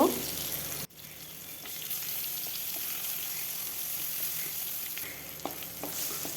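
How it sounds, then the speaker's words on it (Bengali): Dried fish sizzles and crackles in hot mustard oil in a kadai, a close steady frying hiss with occasional stirring clicks after a brief sharp opening clatter. "তারপর শুটকি মাছগুলো ভেজে নেব"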